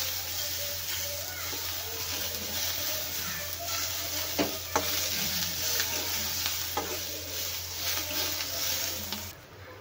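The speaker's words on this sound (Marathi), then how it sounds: "अर्धा चमचा तेल घातला आहे आणि कांदा छान भाजून घेते आता।" Onion roasting in half a spoon of oil in a pan, a steady soft sizzle with scattered scrapes and stirring clicks, a low hum running underneath throughout.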